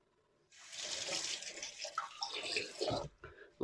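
Tap water running into a sink while a shaving razor is rinsed under it after a menthol shave: a steady close splashing stream starting after a half-second of quiet, with brief knocks and clinks of the razor near the end.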